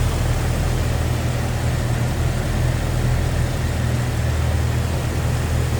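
A 2000 Jeep Wrangler Sahara's 4-liter inline-six idles with a steady, low, even hum under a constant wash of broadband noise, unchanging throughout with no voices.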